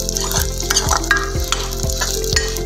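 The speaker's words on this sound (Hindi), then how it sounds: "इसको थोड़ा हाई फ्लेम पर भूनना है।" Khurchan barfi mixture roasts in ghee in a pan over a high flame, giving a steady close sizzle broken by rhythmic scraping stirs about every half second.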